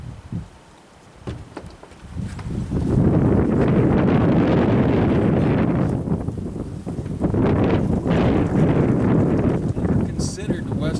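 Strong wind buffets an outdoor microphone near an outhouse, a loud sustained roar that swells after a brief lull and stays heavy to the end.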